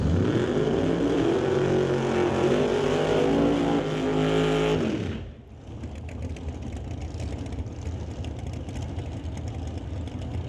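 Drag racing cars in an NHRA Northwest National Open Series qualifying run roar down the track together, loud and harmonic with the pitch climbing. The roar cuts off sharply midway, leaving a fainter, distant engine rumble and crowd noise.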